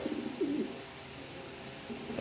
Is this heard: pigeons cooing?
yes